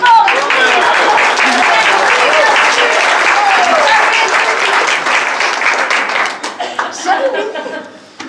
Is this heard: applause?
yes